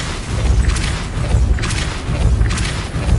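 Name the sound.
Depulso spell cast in Hogwarts Legacy video game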